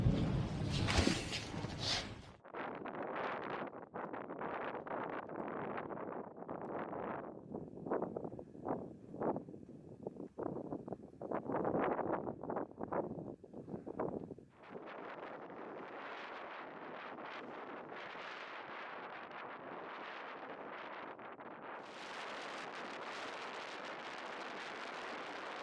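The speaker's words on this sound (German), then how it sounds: "es wird hier immer kälter und windiger" Strong mountain wind on the trail to Piz Languard in Graubünden, Switzerland, buffets the microphone in loud, gusty rumbling bursts with brief lulls between them, and the roar turns steady toward the end.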